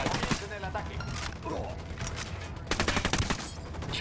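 Gunfire in Ghost Recon Wildlands: bursts of rapid shots rattle through a busy, loud battle mix, with a dense run of quick reports toward the end.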